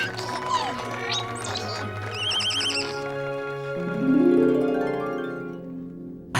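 A winged pony, Pegasus, lets out a cartoon-style whinny, with a rising then quavering neigh over a bed of orchestral music. The call is loud and close, and no one speaks.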